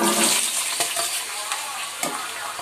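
Sliced onions and green chillies fry in hot oil in a pan, making a loud, continuous hiss with a few soft stirring knocks near the end.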